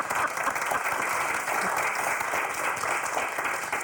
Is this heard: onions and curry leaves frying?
no